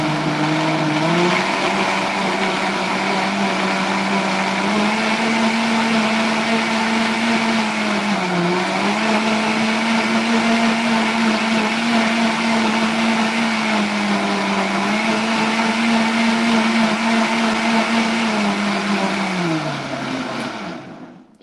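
A cracked, leaking blender froths milk with a steady, loud motor whir that holds its pitch with slight dips for about twenty seconds, then winds down at the end.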